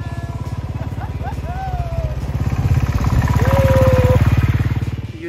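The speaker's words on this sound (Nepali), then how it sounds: "बाइक आउँछ है" A motorcycle on a mountain road in Mustang, Nepal, puts out a steady, pulsing engine drone that swells louder toward the middle and end, with voices talking over it.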